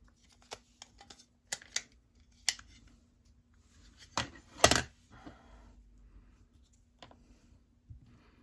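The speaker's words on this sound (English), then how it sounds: "I'm going to cut them out with my trimmer" A paper trimmer cutting card stock, a handful of crisp close clicks and slicing swipes scattered irregularly, with one longer, louder cutting stroke near the middle, quiet between them.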